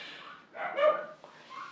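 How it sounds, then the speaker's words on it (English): Dogs barking indoors, with a single muffled bark-like yelp in the middle and faint whimpering around it, fairly quiet and somewhat distant. "sorry about the dogs."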